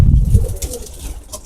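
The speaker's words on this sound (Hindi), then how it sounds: "ये मेन सबसे बड़ा कबूतर है ये" A large breeder pigeon of a prized Ababeel line coos close by, a low throaty burble under soft background noise.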